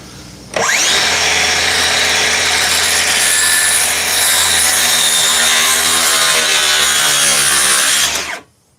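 A power saw cutting through wood during a cabin build, spinning up sharply and then grinding steadily for about eight seconds before stopping, loud and close.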